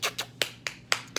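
A hand patting against a leg to call a dog outdoors, five or six short sharp slaps in a quick uneven rhythm, close and fairly loud with no talk.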